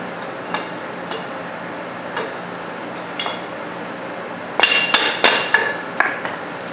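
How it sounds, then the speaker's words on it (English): Several sharp metallic taps as a tight hitch pin is driven into a Pat's Easy Change Hitch on a Kubota B2601 tractor, a few isolated knocks at first, then a quicker cluster of louder strikes near the end. "pin fits fairly tight in the Pat, so it's gotta be tapped in."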